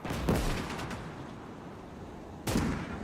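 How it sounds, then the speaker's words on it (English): Grenade blasts in the WW2 game Gates of Hell: Ostfront, two sharp, loud bangs about two seconds apart, each with a short ringing tail over a steady bed of battle noise. "We'll actually toss a nade over there as well."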